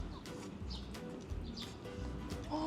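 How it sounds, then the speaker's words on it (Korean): Small birds chirp and tweet in short scattered calls in a park in Hakodate, Japan, over a soft outdoor background, fairly close, with no one talking. "새소리가 새소리 너무 들리고"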